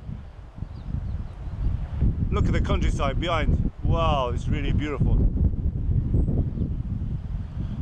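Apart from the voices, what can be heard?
wind on the Maltese coast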